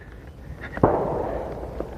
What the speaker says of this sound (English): We're hearing some fireworks.